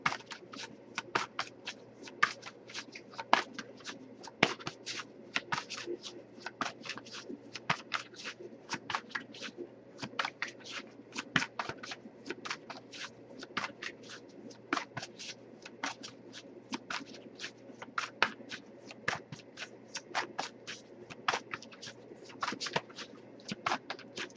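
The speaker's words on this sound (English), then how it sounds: "I'll give it a few more shuffles" A tarot card deck is shuffled by hand over and over, giving quick, crisp riffles and soft slaps in an irregular rhythm, close and fairly quiet, with no talking.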